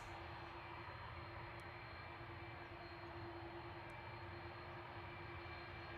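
Turkish Airlines jet taxiing toward the runway threshold at night at Manchester Airport, a steady distant engine roar with a faint constant whine, heard alone with no voices.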